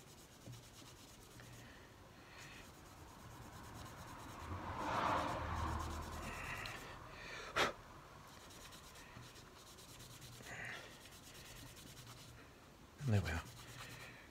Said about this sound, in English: I think that'll just come off with some Scotch-Brite. I'll just set that there and just rub it gently.